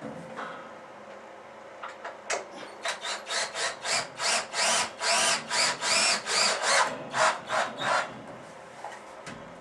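Power screwdriver driving screws through 2x6 lumber to fix 4x4 legs to a platform bed frame, a run of about fifteen short, loud whirring bursts in steady rhythm after a quiet start, close by with no talk.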